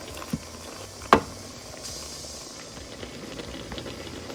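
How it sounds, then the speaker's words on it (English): Apples simmer down into plain applesauce in a pot, a soft steady bubbling and patter with a couple of sharp knocks early on, close and moderately quiet. "I'm just going to cook this down really soft and leave it plain"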